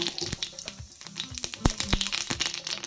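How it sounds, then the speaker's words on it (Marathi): Cumin seeds sizzle and spit in hot oil in a kadhai on a gas stove for tempering stuffed bitter gourd, a loud close fry with sharp crackles and pops scattered through it. "तेल तापलंय. आता त्याच्यामध्ये जिरं टाकते, फोडणीला"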